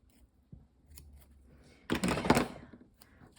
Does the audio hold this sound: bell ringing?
no